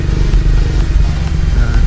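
A Yamaha Sniper 155 motorcycle rolls downhill on a steep, muddy road, its engine a steady close rumble mixed with wind buffeting and rattling, no talk heard.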